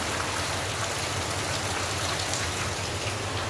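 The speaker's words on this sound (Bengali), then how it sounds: "ওই যে বাইরে দেখছেন কি বৃষ্টি প্রচুর বৃষ্টি হচ্ছে" Heavy rain pours steadily outside, a loud, even wash of falling water with no breaks across the whole stretch.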